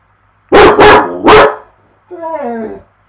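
A dog lets out three loud, sharp barks close by, followed by a short whining whimper, with no talking.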